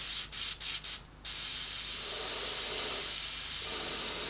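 Several short bursts from a hand spray bottle misting a painting, then one long steady hiss of spray, close and loud with no talking.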